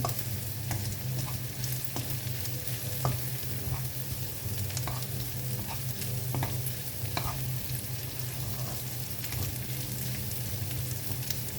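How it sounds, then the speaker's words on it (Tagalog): Monggo (mung bean) stew with alukbati and dried prawns simmers and sizzles in a pot as it is stirred, scattered scraping clicks rising over a steady frying hiss, with no talk. "kunting halo-halo lang."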